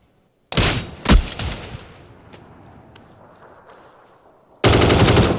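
PUBG gunfire: a sharp burst of automatic shots with a ringing decay, then another loud volley at the end, close and punchy.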